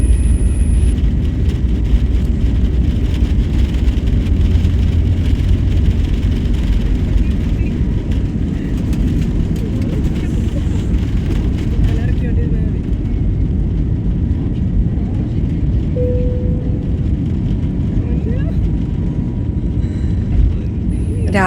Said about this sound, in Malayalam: അപ്പോഴത്തെ ഫ്ലൈറ്റ് ടേക്ക് ഓഫ് ചെയ്യാൻ സമയമായി